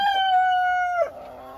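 A rooster crows close by in one long, drawn-out call that breaks off sharply, followed by softer clucking.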